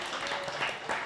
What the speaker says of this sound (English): And a round of applause for Linda